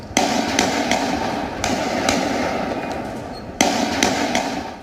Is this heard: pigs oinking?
no